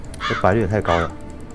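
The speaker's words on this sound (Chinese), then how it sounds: "乌鸦在叫的声音。" Crows caw in the video game Night Crows, a few harsh, ringing calls in close succession, heard under a person talking over the game.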